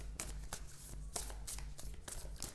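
An oracle card deck (Moonology) is shuffled close up in a quick, steady rhythm of papery riffles and soft slaps, with no voice over it.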